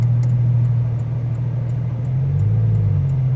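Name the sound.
Porsche GT3 RS Dundon exhaust idling with valves closed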